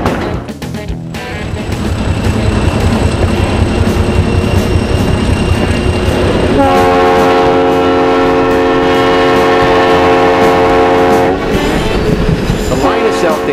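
A Tioga Central Railroad excursion train rumbles loud and close along the line, its horn sounding a long sustained blast midway over steady wheel noise and clatter.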